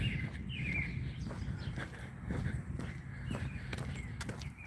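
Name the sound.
birds singing in a park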